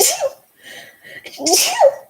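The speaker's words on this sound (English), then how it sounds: "Gotta sneeze." Two sharp sneezes close to the microphone, separated by a short pause with a faint murmur between them.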